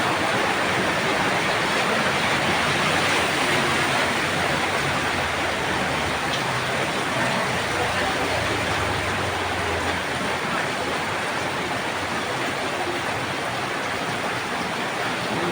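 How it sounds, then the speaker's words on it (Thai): Steady, dense rain hiss with no breaks, close and fairly loud, like a heavy downpour on surfaces nearby. "ฟังเสียงฝนตกกันนะคะเพื่อนๆค่ะ ฟังเสียงฝนตกนะคะ"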